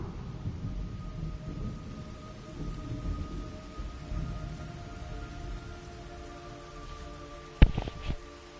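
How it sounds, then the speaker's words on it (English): Rain pours steadily in the jungle setting of the game Metal Gear Solid 3: Snake Eater, a soft even hiss under a low rumble, then a sharp loud thunderclap cracks near the end and rolls off briefly. "It's raining blood."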